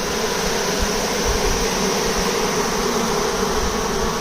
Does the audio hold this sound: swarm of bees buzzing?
yes